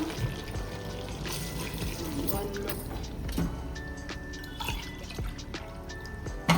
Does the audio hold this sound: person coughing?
no